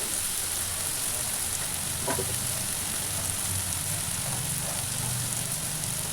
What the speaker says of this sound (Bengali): ডিমটা ঢেলে কিন্তু খুবই ঘন ঘন খুব দ্রুত তখন নাড়তে হবে নাড়াচাড়া করতে হবে